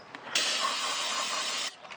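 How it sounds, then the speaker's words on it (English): Brake cleaner sprayed onto a brake caliper during a Saturn Ion brake replacement: one loud, steady aerosol hiss lasting just over a second, starting and stopping abruptly, close to the microphone. "Grab the caliper, brake cleaner,"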